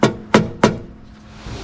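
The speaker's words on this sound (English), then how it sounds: "Screwdriver and a hammer." A hammer strikes a screwdriver three times to pry out a seal on a Plymouth Fury: three sharp, loud, close metallic blows about a third of a second apart, followed by a quieter stretch.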